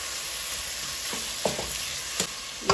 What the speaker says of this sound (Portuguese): Vamos mexer.